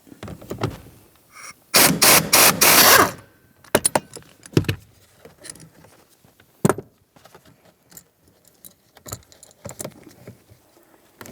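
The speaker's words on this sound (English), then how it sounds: "We'll use our socket with an extension and remove that nut." Socket wrench with an extension loosening an 18mm rear shock absorber mounting nut on a 2009-2019 Ford Flex, heard as a loud burst of metallic clicking and rattling followed by sparse scattered clanks and taps.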